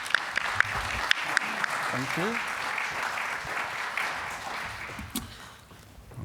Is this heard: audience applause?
yes